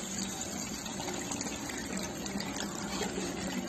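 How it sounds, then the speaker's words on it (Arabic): Water, about two large cupfuls, pours steadily over chicken breasts and vegetables seasoned with pomegranate molasses and salt in a tray. It makes a continuous close gushing splash with no talking. "هلا بدي اضيف عليهم تقريبا كاستين كبار من المي"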